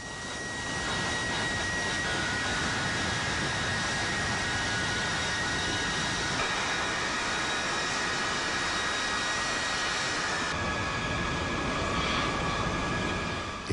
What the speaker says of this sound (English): B-52-Bomber greifen Bagdad an.